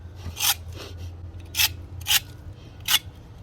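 A jointing tool scrapes along fresh mortar joints of a glass block window, giving four short, rasping strokes spaced unevenly over a low background hum.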